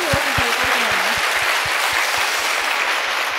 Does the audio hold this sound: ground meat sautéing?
no